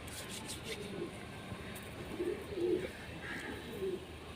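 Rampuri pigeons cooing at close range, several soft low coos spread across the stretch over a faint background hum.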